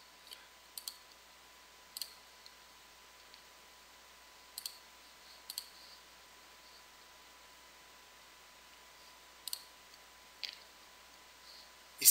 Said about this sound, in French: Donc, on va cliquer sur Modifier la campagne.